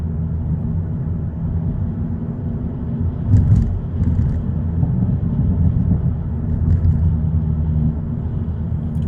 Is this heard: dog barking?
no